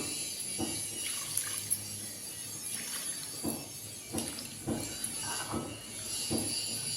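Freshly made chenna curds, soured with lemon juice, are rinsed by hand in water, giving repeated sloshes and splashes with a steady trickling hiss behind them, close by and moderately loud.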